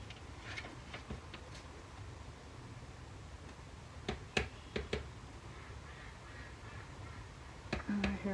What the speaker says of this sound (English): Here are my neighbor's ducks.